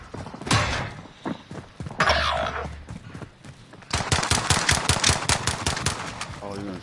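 Rapid automatic gunfire in Call of Duty Warzone, with an MP7 submachine gun, loud and close, with bursts of shots and a denser sustained stream in the second half, as a voice talks briefly at the start.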